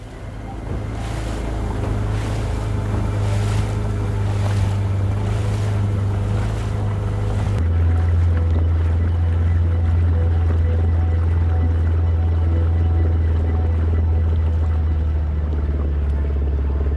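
A motorboat cruises the Madu River in Sri Lanka, its engine a loud steady drone with wind buffeting the microphone and water rushing along the hull.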